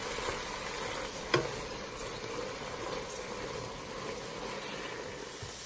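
Ground meat browning in a pan for cabbage taco soup, a soft continuous sizzle at moderate distance with one brief knock of a utensil, no talk.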